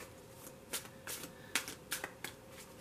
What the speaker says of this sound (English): I'm going to go ahead and shuffle the next deck.